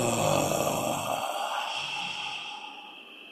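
A long, breathy exhale carrying a soft low voiced tone, fading gradually over a few seconds.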